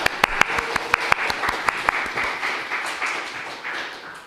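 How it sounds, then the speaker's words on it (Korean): A church congregation breaks into applause, a few sharp separate claps at first that blend into a fuller burst of clapping and then taper off. "박수!"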